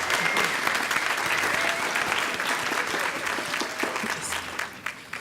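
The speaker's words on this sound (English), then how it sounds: "I think we should give them one more round of applause" Sustained audience applause at a speech night competition, a dense crowd clapping steadily and fairly close, fading slightly toward the end.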